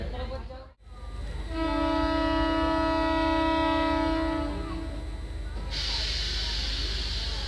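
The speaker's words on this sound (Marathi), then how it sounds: "डिपार्चर विसल आता झालेलं आहे आणि गाडी मोडलीम रेल्वे स्टेशनवरून निघत आहे" A passenger train departs Madgaon-area Modlim railway station, its horn sounding a long sustained multi-tone blast that holds steady for about three seconds before fading into rolling rail noise and a hissing rush.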